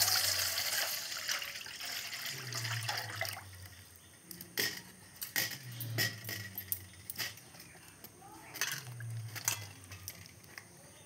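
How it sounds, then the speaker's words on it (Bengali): Raw mangoes are washed by hand for a sweet pickle, with water splashing and trickling and fruit knocking together in irregular bursts, moderately close. "এই আমগুলোকে আমি প্রথমে জল দিয়ে ভালোভাবে ধুয়ে নেব"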